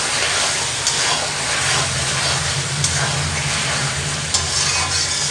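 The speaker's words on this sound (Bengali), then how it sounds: "ঢাকনাটা উঠিয়ে একটু নেড়ে নিচ্ছি। পেঁয়াজগুলো সব গলে গেছে একেবারে।" Mutton curry with melted-down onions is stirred in a pot, a continuous sizzle and hiss with soft scraping and occasional clinks of the spoon, close and steady, with no talk.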